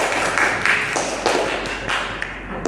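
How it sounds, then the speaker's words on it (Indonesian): Classroom audience of teachers clapping for the final presenting group, a dense steady patter of hands at moderate loudness with a few sharper claps standing out, no talking. "kasih tepuk tangan untuk kelompok terakhir"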